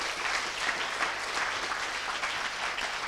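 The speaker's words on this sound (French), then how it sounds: "je voudrais qu'on l'applaudisse très fort" Steady, dense applause from a large audience at a university thesis-presentation final, a continuous wash of many hands clapping without pause.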